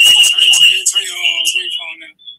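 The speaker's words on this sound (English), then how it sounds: "Oh, that's me. That's my phone." A mobile phone rings with a steady high electronic tone while a person talks over it nearby.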